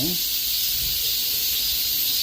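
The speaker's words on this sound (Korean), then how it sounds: "매미 소리가 요란합니다." A dense, continuous high-pitched buzzing drone of cicadas fills the air at steady loudness, with a faint voice at the very start.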